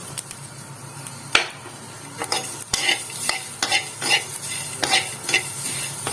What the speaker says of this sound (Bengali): পেঁয়াজটা খানিকক্ষণ আমি শুকনো খোলাতেই ভেজে একটু লাল লাল করে নেব।